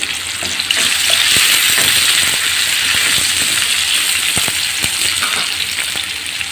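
A cup of chopped onions hits hot oil left from browning broiler chicken, setting off a loud, crackling sizzle that swells quickly and stays steady, with faint spatula taps underneath.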